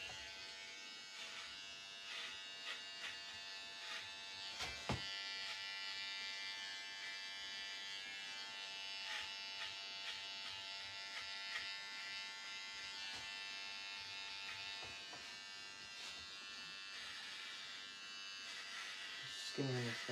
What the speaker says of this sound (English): I'm just using my Andis trimmers here